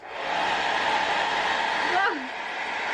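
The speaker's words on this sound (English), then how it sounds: "Let's try with this hairdryer." A hair dryer blows with a steady broadband whoosh that starts quickly and holds, with a brief voice sound near the end.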